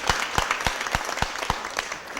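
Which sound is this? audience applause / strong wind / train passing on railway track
audience applause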